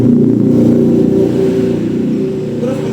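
A fuel-injected car engine revs loudly and steadily at close range, a dense mid-pitched roar holding for about three seconds with slight swells and no voices over it.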